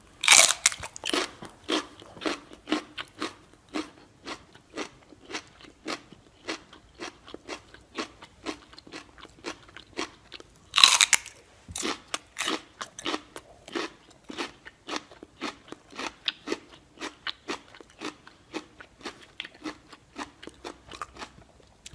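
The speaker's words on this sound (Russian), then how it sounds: "выходить в эфир и жрать и чавкать" Loud, close chewing and munching of crunchy food during a livestream: rapid, rhythmic crunching bites with a few sharper cracks, continuing steadily throughout with no talking.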